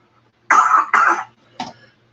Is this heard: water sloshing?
no